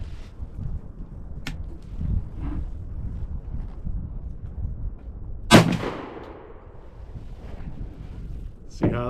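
A shotgun fires a single round of Double X turkey ammunition outdoors in cold, gusty wind: one sharp, loud blast in the middle with a decaying tail, over steady wind rumble, with a second sharp report near the end.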